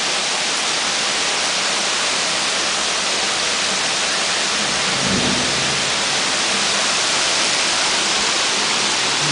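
Heavy summer downpour in Kharkiv roars as a steady, dense wash of rain, with a low rumble of thunder swelling midway through, loud and continuous with no talking.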